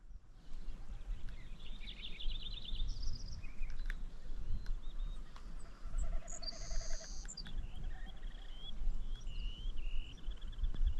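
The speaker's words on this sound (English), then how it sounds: "You hear all that wildlife, all those birds." Various birds calling in the Alaskan wilderness near snowy mountains, scattered whistles and repeated chirps at moderate distance over a steady outdoor background, with no talking.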